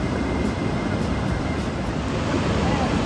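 Waterfalls along the Erie Canal, heard from a footbridge as a steady, broad roar of rushing water that holds even throughout, with some wind buffeting the microphone.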